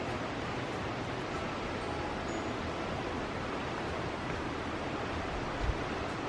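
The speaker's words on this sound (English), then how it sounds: "You may be able to hear the water going now. It's rushing along here." Steady broadband rushing of a flowing stream in the Tasmanian wilds, continuous and fairly loud throughout, with no voices.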